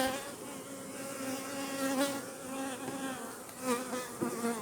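Hornets buzz around beehives at an apiary, a steady close insect drone with wavering pitch that swells now and then as they pass near, with no talking.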